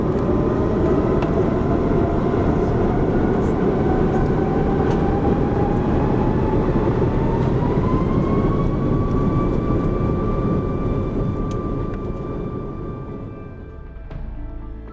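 An Iberia Airbus A340-600 jet taking off, heard from inside the cabin as a loud, steady engine roar with a rising whine that climbs in pitch partway through before the noise slowly eases toward the end.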